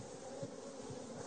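Worker honeybees buzz around an open hive in a brief, soft, continuous hum.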